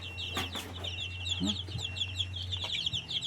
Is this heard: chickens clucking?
yes